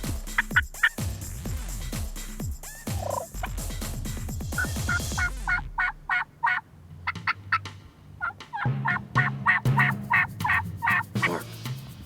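Wild turkey hens give a series of sharp, rapid yelps and clucks in irregular bursts, some close and loud, others fainter, on a windy evening outdoors, with no speech.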